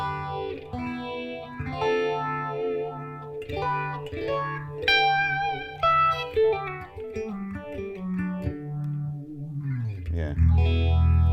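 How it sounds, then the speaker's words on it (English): An electric guitar runs through a phaser effect on a Helix TonePrint, producing washy, swirling, psychedelic tones. Sustained and bending notes ring out loud and close, building into a thick, distorted final chord. "Phaser is like perfect for that, because it kind of interacts with the strings and creates this, you know, washy,"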